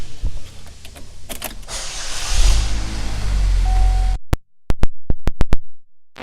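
Power windows on a 2014 Chevrolet Equinox LT: a sustained electric motor whine over low rumble for about four seconds, ending in a stop, then a series of sharp clicks close by.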